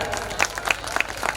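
A brief burst of scattered audience clapping at a school annual day function during a mimicry show, light and uneven, with a few sharper claps standing out.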